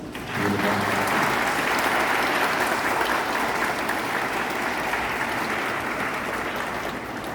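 A Catholic parish congregation at Ascension Mass applauds the mothers with a steady, dense wash of clapping that holds evenly throughout, with some murmuring voices mixed in.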